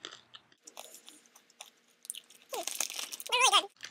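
Crunchy chewing of toffee peanuts with coconut up close, soft bites at first, then loud crackling crunches building near the end; a brief vocal sound mixed in.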